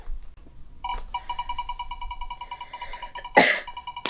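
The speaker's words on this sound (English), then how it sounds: "Sorry, I have a little cough." A single sharp cough sounds near the end, loud and close, over a faint repeating electronic beeping tone in the background.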